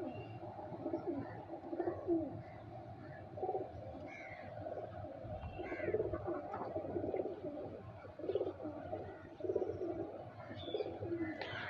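Several Sialkoti pearl-marked pigeons, a two-colour breeding pair, coo softly and repeatedly in low murmuring phrases over a steady background hum, with a few faint chirps mixed in and no talking.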